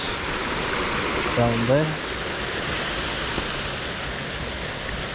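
Water of Khoun Moung Keo waterfall rushes in a steady, broad hiss throughout, close and continuous, with a short spoken phrase briefly over it.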